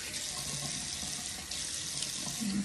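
Tap water runs steadily into a sink while soap is rinsed off a face, a close, continuous splashing hiss with small shifts in the flow and no talking.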